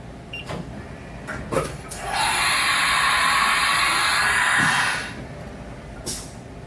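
A machine spindle in a machine shop being emptied: a few clicks, then a loud steady pneumatic hiss with a whine for about three seconds, cut off sharply, followed by a last clunk.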